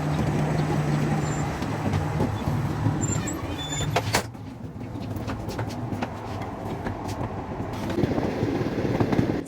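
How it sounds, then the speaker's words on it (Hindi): A passenger train on the Lahore to Karachi route rumbles steadily as it gathers speed, with a continuous broadband roar, rhythmic clatter and occasional sharp metallic clicks, loud and close from inside or beside the carriage. "संगदिल रेलगाड़ी किसी की भी परवाह किए बिना तेज़ होती चली गई।"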